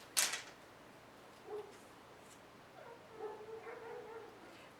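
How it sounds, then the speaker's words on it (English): Dogs bark and whimper outside, a sharp yip at the start followed by a few softer, fairly distant barks and whines over quiet background noise. "There's cars and dogs barking."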